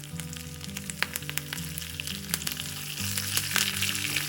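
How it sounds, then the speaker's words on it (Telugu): Curry leaves dropped into hot tempering oil that already holds chana dal, urad dal, mustard seeds and cumin, making a close, steady sizzle with crackling pops that swells near the end, with no voices. "తాలింపు వేగిపోయింది. దీనిలో ఇప్పుడు కరివేపాకు వేసుకుందాం."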